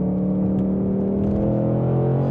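A Mustang Dark Horse with a six-speed manual pulls steadily under acceleration in second gear, a sustained droning hum with rising tone, continuous and close, no voices.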